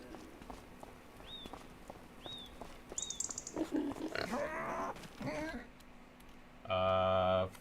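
Pigs on a farm in Farming Simulator 25 give short grunts and oinks with shuffling hoof steps, while someone speaks over them, ending in a loud, steady tone.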